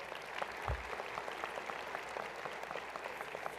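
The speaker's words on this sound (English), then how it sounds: "So how about a round of applause for all of them as well?" An audience at a winter commencement ceremony for professional and graduate degrees applauds in an auditorium, a steady, fairly faint patter of many hands heard from a distance.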